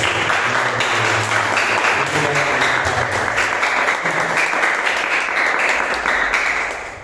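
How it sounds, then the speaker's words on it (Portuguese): A church congregation at a Friday evening service breaks into a loud, sustained round of applause. The clapping is dense and close and stays even before tapering at the end, with a low hum of voices underneath. "uma salva de palmas ao Senhor Jesus Cristo"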